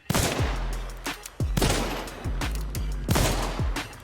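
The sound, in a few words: Uppercut gun firing in a video game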